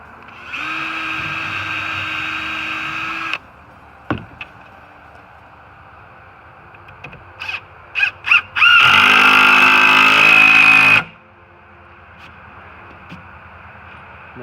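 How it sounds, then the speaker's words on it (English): A power drill whirs steadily for a few seconds pre-drilling a temporary truck flatbed, then after some brief clicks and knocks, a louder, harsher burst of drilling runs for about two seconds driving 2.5-inch screws. "I'm just going to pre-drill it."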